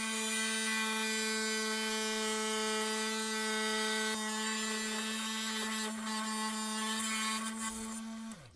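A motorized saw runs through a fossilized coprolite with a steady, faint, humming whine that holds an even pitch, then spins down at the very end.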